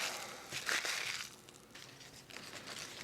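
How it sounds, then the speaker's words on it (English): A page torn from a rescued library book is crumpled by hand, giving soft, close crinkling and rustling bursts in a few uneven handfuls at a fairly low level. "I think I'm going to try to crumple it up just a little."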